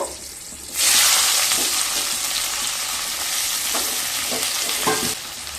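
Chopped tomato dropped into hot oil with green chillies in a pan, bursting into a loud, steady sizzle that holds for several seconds with light stirring scrapes before dying down.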